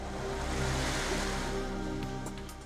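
Waves breaking on an untouched beach in Flores, Indonesia, a steady broad roar of surf that swells and recedes, with a faint tonal bed running underneath.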